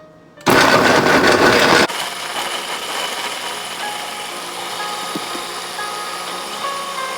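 A kitchen machine on its chop setting blitzes pineapple for juice, giving a loud, dense whir for about a second and a half before it drops to a steadier, quieter running hum.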